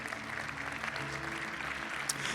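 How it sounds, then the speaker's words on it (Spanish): Church congregation applauding during a sermon, with a steady, moderately loud patter of many hands over sustained instrumental music chords underneath. "denle un aplauso al Señor"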